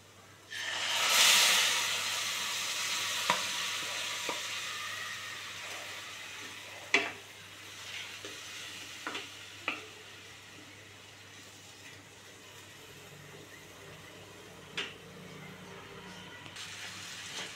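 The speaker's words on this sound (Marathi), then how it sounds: "आता मी घालणार आहे भिजवून घेतलेली मटकीची डाळ।" Soaked moth bean dal tipped into hot tempering in a pan, one loud hiss that swells and fades within a couple of seconds, followed by quiet sizzling and a few sharp clinks of stirring.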